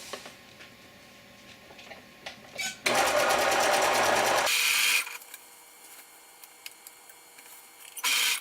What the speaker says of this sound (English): we're just zigzagging, zigzagging right on the edge.